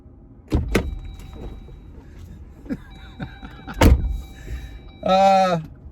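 Clunks and thumps of a Jeep Gladiator door being opened while the truck rolls at about 1 mph, with a low rumble, then a short electronic chime-like buzz near the end.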